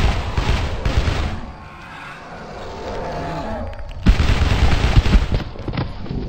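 Dense bursts of gunfire from the blocky survival game CastleMiner Z, loud and close, with rapid shots crackling at the start, a quieter lull in the middle, then another heavy volley near the end.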